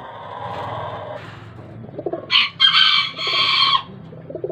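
Breeder chickens heard close up: a rooster gives a full crow lasting over a second, preceded by soft clucking and low murmuring calls from the flock, with no one speaking.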